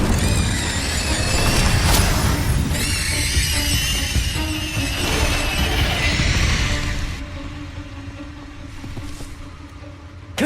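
Incendio, a fire spell in Hogwarts Legacy, is cast with a deep boom and a rushing, crackling flare. Sustained tonal layers ring through it before it fades into quieter ambience, with a sharp hit at the very end.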